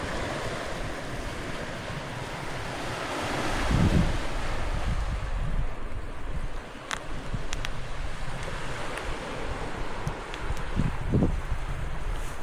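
Sea waves wash into the bay at Popski beach in Tsarevo with a continuous roar of surf, mixed with buffeting wind on the microphone and a few faint clicks.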